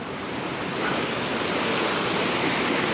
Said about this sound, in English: The creek is kind of low, so the falls are not impressive right now.